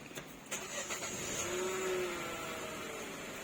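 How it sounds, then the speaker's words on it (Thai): A 2020 Nissan Almera with push-button start cranks and fires up, a short starter whir followed by the engine catching and settling into a steady idle, fairly quiet and close. "สตาร์ทติด"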